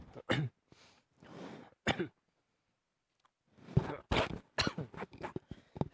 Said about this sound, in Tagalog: Pasensya na kayo ko inuubo.